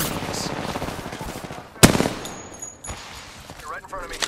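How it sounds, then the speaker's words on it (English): Gunfire in Apex Legends on the Broken Moon map: rapid automatic bursts under game sounds, one loud sharp crack midway, then more scattered shots with electronic effects, and a voice briefly speaking. "A second squad is firing on us."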